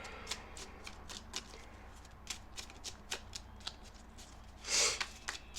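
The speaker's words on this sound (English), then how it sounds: "So what I'm going to do is shuffle out all of your cards" Tarot cards being shuffled, a series of quick, soft riffling bursts repeating at a steady rhythm, close but quiet, with one slightly louder rustle near the end.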